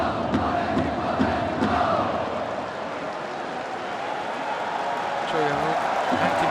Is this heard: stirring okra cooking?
no